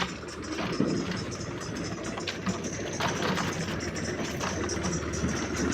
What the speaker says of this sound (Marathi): मित्राचा आला ट्रॅक्टर